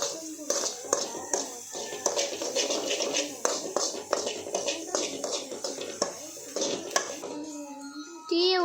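Metal spoon scraping and clinking steadily in a pan as dried fish powder with a little chili powder is stirred, with a voice talking over the scraping.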